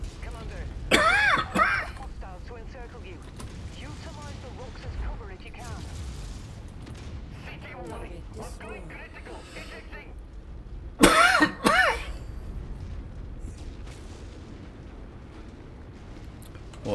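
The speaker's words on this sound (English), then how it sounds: "Coughs, that is, folks." Two sharp bursts of in-game coughing or throat clearing in MechWarrior 5 stand out over a low background rumble with faint talk, one early and another near the end.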